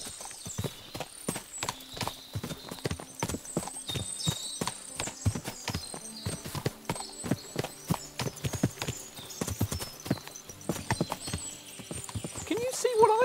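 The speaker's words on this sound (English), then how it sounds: "What a lot of horses!" Many horses trot along on a road in Kingdom Come Deliverance II, hooves clattering in a steady, uneven clip-clop close by, with occasional snorts and people talking faintly over the hoofbeats.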